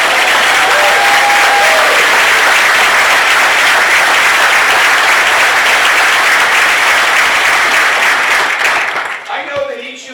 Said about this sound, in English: We can clap there.